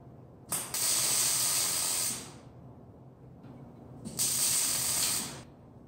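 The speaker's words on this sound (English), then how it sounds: "Now, I can tack and weld the rest of the balusters." Welding on steel railing balusters gives two long bursts of harsh, crackling hiss, each lasting about a second and a half, separated by a quiet pause with faint background noise.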